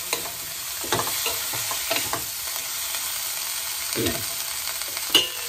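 A spoon stirs puimetuli in a frying pan, soft scraping and clinking strokes over a steady faint sizzle, with a few sharper knocks against the pan.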